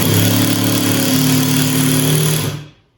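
A power drill or driver runs steadily, driving wood screws into a can-lid beaver trap hanger. The motor whine holds close and loud for about two and a half seconds, then spins down and stops.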